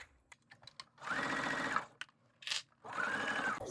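Sewing machine stitching a zippered pencil case seam, with two sustained bursts of rapid even needle clatter separated by short pauses and a few light clicks, close and clear.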